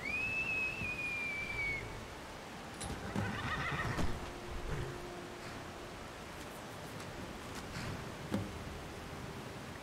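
A horse whinnies in Skyrim with a rising, wavering neigh, followed by soft hoof clops over a constant hiss of wind or rain.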